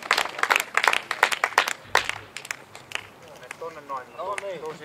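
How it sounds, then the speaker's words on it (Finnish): Applause for race finishers at a Finnish ice-track racing event in Heinola, scattered claps from a crowd rising and falling, with an announcer's voice speaking over the end. "Raikuvat aplodit, Varkaus Racing Team hyvin edustettuna."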